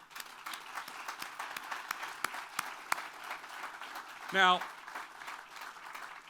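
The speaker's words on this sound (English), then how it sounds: "please join me in a round of applause for all of us here" Audience applause at an outdoor groundbreaking ceremony for the Oakland Cemetery Visitor Center, a steady wash of clapping that runs the whole stretch, with a brief spoken word over it near the end.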